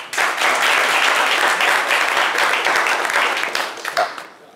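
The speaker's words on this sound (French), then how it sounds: "on peut l'applaudir encore" An audience applauds a slam poetry performer during a French morning show, with a dense burst of clapping that holds steady and then tapers off near the end.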